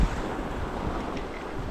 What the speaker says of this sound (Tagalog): Malakas na yung hangin guys